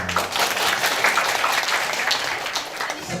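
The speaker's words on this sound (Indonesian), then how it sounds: "Tepuk tangan terlebih dahulu." An audience at a live insurance financial-literacy event claps together in steady, dense applause that fills the room loudly from start to finish, with no voices over it.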